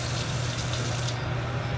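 A splash of water pours into a hot pan of nearly finished fish, giving a steady, close hiss and rush of liquid with no speech over it.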